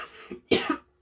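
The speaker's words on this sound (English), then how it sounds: "I need to cough." Someone coughs twice at close range, a smaller throaty cough and then a louder harsh one, with silence after.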